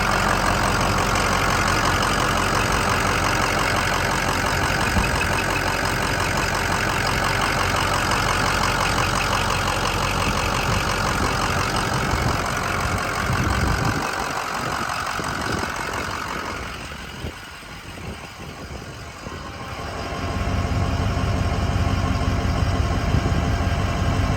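A stock 2005 Ford Excursion Eddie Bauer with a 6.0L Powerstroke diesel idles with the hood open, giving a steady, loud, even rumble that briefly softens and thins out before settling back to full idle.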